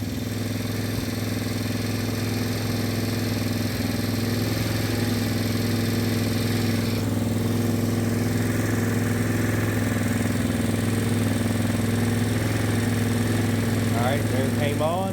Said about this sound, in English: And I got the engine idling a little high to bring it up to temperature.